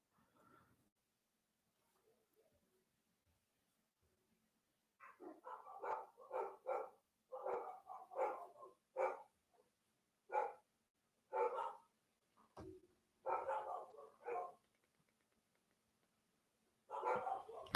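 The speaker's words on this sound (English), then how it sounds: "Can you guys hear the dogs?" Dogs bark loudly in repeated sharp bursts, some in quick clusters and some spaced apart, after a quiet start with faint background sounds.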